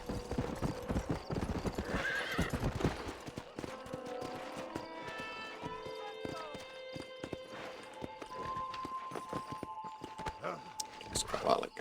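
Hooves clip-clop steadily while a horse neighs and whinnies in the Red Dead Redemption video game, with game music and a voice talking over the action throughout.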